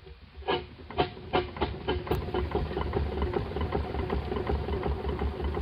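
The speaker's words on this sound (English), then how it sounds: "That's the sound of a steamroller" A steamroller engine runs steadily with rhythmic chuffing beats and a low mechanical rumble, moderately close and without speech.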